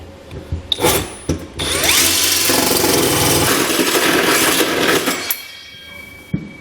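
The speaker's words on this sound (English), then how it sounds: "I like to hold the drill kind of behind my leg so it doesn't start jumping and kicking on me" A power drill whirs steadily for several seconds as it bores a hole while installing a B and W Companion 5th wheel trailer hitch underbed kit, preceded by a few brief mechanical clicks and bumps.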